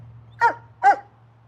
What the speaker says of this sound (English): Why are you barking, Apollo?